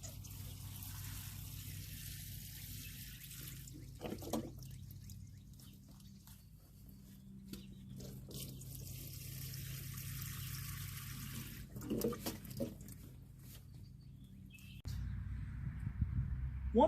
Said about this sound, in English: let's give these a good watering